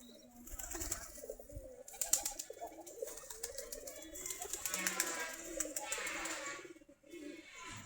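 Bangladeshi native Giribaj pigeons cooing in low, rolling coos from several birds, with wing flutters and rustling close by and occasional bird chirps mixed in.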